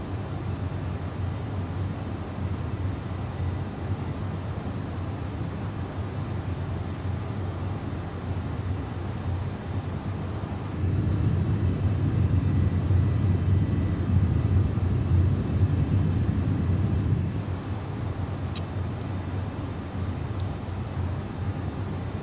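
McDonnell Douglas MD-11F freighter engines modeled with the Mango sound pack in a flight simulator, climbing through flight level 260: a steady, broad jet roar that swells louder for several seconds midway, then settles back, with no talk.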